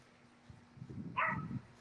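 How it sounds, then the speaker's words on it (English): A dog barks at a cat nearby, a short burst of yips and growly barking that lasts about a second over quiet room tone. "Like Ace is right now with this cat that he's barking at."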